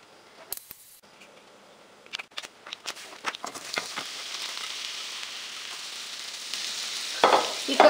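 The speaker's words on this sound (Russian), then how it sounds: "Сейчас она у меня нагреется, я пущу туда лук." Onion going into melted butter in a hot pan, a few clicks and stirring knocks giving way to a steady close sizzle that swells toward the end.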